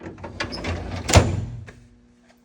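A metal tool drawer holding end mills in a machine-shop tooling cabinet slides along and shuts with a single sharp clunk midway, followed by quiet.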